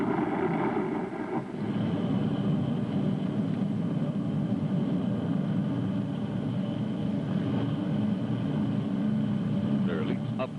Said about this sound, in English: Thrusting forth tons of energy, the huge rocket engines drive the Space Patrol ship deeper into space